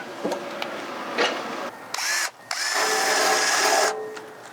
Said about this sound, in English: I need to run a wire wheel over that so I can see what the hell I'm actually welding.